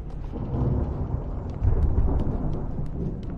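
Rumbling thunderstorm from the Alan Wake video game: steady low thunder roll with rain hiss, swelling louder midway, continuous and fairly close with no voices.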